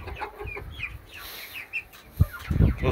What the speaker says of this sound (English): Those partridge Brahmas are beautiful,